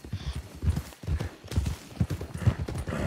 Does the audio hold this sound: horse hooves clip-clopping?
yes